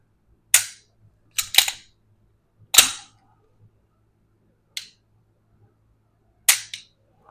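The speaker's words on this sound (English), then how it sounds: "First trigger pull's long, heavy. After that, nice little take up." SIG P320 compact pistol, a double-action/single-action model with a decocker, being dry-fired: sharp isolated trigger clicks and reset snaps, some in quick pairs, spaced across several seconds in a quiet room with no talking.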